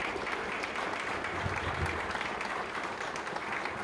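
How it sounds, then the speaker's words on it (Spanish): Audience applause at an agricultural technical conference on cattle supplementation, a dense, steady wash of clapping that holds at an even level for the full length. "pido otra vez un fuerte aplauso"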